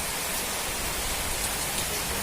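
Heavy rain pours down without pause, a dense and loud hiss of drops drumming on surfaces that holds steady the whole time, with no voices.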